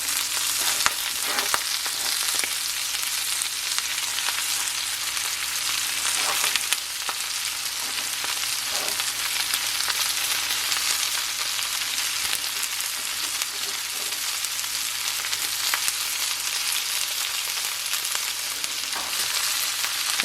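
Smoked sausage, onion and chard frying in a pan, a steady loud sizzle and crackle that runs unbroken with a few faint stirring scrapes and no voices.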